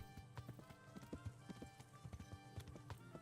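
Horse hooves clip-clop at a steady walking rhythm in the medieval video game Kingdom Come: Deliverance, close and fairly quiet, with no talk over them.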